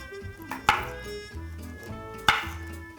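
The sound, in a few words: knife thinly slicing peeled ginger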